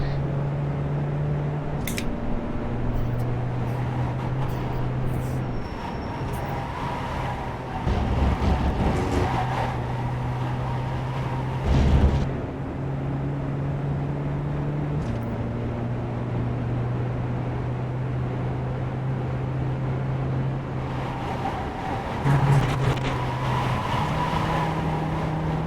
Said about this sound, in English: It's a diesel. I don't think I have to run it too hot on revs.